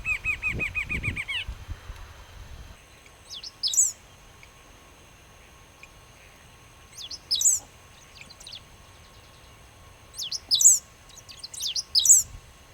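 Short, high chirping calls of a rufous-capped antshrike in grassland at Playa Penino, Uruguay, recurring in brief bursts every few seconds over a quiet background, with a low rumble at the start.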